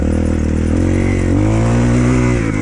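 A Shineray VXR 300 motorcycle engine revs up close by, its pitch climbing steadily as the throttle opens and the rear wheel slips.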